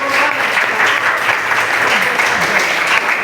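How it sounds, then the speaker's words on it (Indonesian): Classroom applause for a student in a light vehicle engineering class, a steady dense burst of clapping from many hands throughout, loud and close with a bit of voice mixed in. "Tepuk tangan buat Abdul Gofar."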